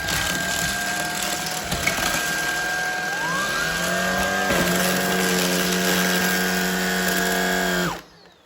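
A Shark Vertex cordless vacuum hums loudly and steadily as it picks up Fruit Loops cereal. Its motor pitch shifts partway through, then the sound cuts off sharply at the end.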